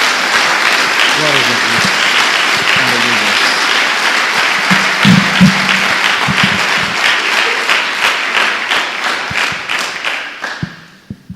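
A church congregation claps loudly and steadily in praise for several seconds while a preacher's voice speaks over it, the clapping tapering off at the end.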